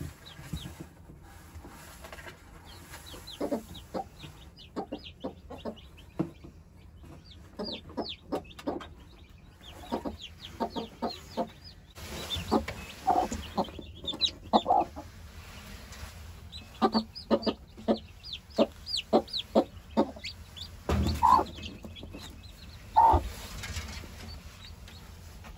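Hens in a coop cluck steadily after chicks are placed under them. Thin, high chick peeps mix with repeated low clucks and scattered rustling over about half a minute.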